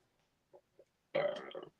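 A loud, close burp lasting about half a second, preceded by two faint short throat sounds, with quiet surroundings before it.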